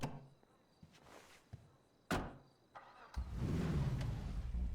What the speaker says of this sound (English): Listen to the engine. Yeah, give her a rev. It really purrs.